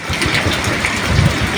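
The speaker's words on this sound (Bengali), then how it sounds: "আর বাইরে এতটাই বাতাস আর এতই বৃষ্টি হচ্ছে" Heavy rain driven by strong wind pours down outside in a loud, steady, unbroken roar with no voices.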